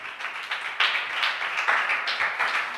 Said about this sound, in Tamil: கைத்தட்டி ஆண்டவருக்கு நல்ல ஒரு நன்றி சொல்லணும்.